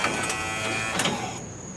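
A Buick headlight motor runs up and down, giving a steady close-up mechanical whir that holds at an even level, with a brief clunk near the end.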